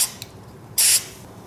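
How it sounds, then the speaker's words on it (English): Carb cleaner is sprayed into a Mikuni carburetor on a Yamaha Banshee in a single short, sharp hissing burst, close up, following a faint brief spritz. "and then spray inside it"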